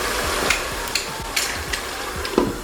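Locust beans (iru, dawa dawa) fry in hot oil for ayamase stew, giving a steady close sizzle and crackle with scattered sharp pops and occasional scrapes of stirring.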